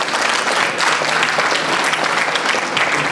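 Applause from the audience at a memorial lecture and dinner dance, a full, loud, continuous burst of clapping from many hands, unbroken and without voices on top.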